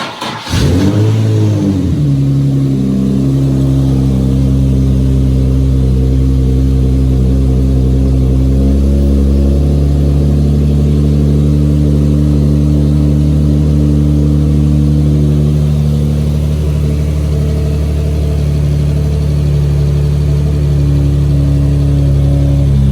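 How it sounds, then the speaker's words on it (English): An Infiniti G37 engine, just after a clutch master cylinder replacement, starts up and revs steadily with a strong mid-low drone that rises briefly and then holds at a loud, close, continuous pitch for a sustained stretch. "Take the car for a test drive, and it is driving, it is working"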